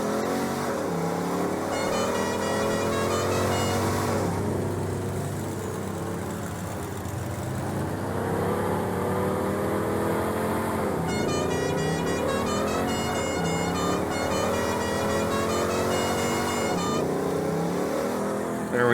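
Video game farm truck with a plow accelerating to pass another vehicle, a loud steady engine drone rising and falling in pitch through gear changes, with a repeated tonal chime pattern layered on top.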